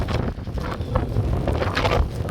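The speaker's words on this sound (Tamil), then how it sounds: "அப்படி ஒரு காற்று" Strong storm wind blows across a storm-damaged beach, a continuous loud roar and buffeting close to the microphone, with no voices.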